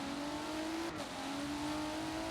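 A race car engine revs loud and steady in a sim racing game at Brands Hatch, one continuous high drone with a brief dip in pitch before climbing again, no voices.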